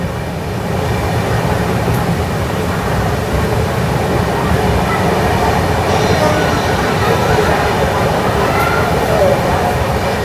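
Steady onboard rumble of the Tirupati to Bhubaneswar superfast express, a weekly SF service, running at reduced speed behind another train, with continuous low wheel and carriage noise and faint voices in the background.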